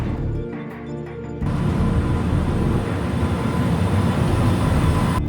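A Boston subway train passes with a loud, steady roar and rumble that swells after a brief lull and holds to the end, with no voices over it.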